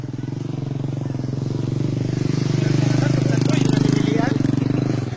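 A motorcycle engine putters close by on a street among people, its rapid pulsing throb swelling as it passes while voices talk over it.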